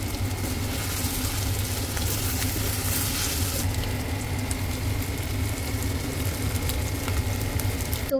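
Beef keema cooking with bitter gourd in a pan, sizzling and frying steadily as the water dries off, a dense, even crackle that stays at the same moderate loudness throughout with no talking.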